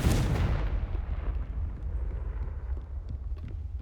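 A Confringo blasting spell going off in Hogwarts Legacy, a loud sudden explosion with a rumbling boom that decays into a lingering low roar.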